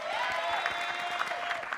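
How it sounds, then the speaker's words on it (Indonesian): Studio audience clapping on a TV cooking show, a dense steady patter of applause with a sustained musical tone running beneath it and some crowd voices mixed in. "Tepuk tangan dong."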